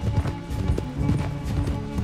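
Rapid hoofbeats of a galloping horse in the Red Dead Redemption 2 video game, loud and close with a steady driving clip-clop rhythm throughout.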